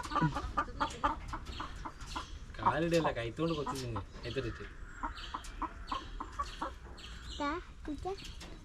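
Chickens on a chicken farm cluck and squawk in short bursts, with a louder run of calls in the middle, while a person talks nearby.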